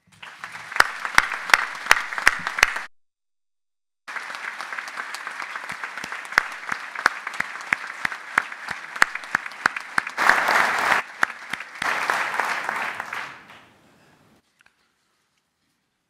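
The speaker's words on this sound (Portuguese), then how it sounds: "Pede-se um aplauso, por favor, a todos." Applause breaks out at a municipal assembly, loud and sustained with a few sharp claps at the start. It drops out briefly, swells again for about ten seconds, then fades into silence.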